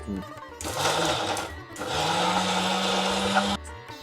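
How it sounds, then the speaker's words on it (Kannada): A mixer grinder whirs in two loud bursts with a short pause between, blending tomato chutney without added water, motor pitch rising as it runs. "ಇದಿಷ್ಟು ಆರಿದೆ, ಮಿಕ್ಸಿಗೆ ಹಾಕೊಂಬಿಡೋಣ."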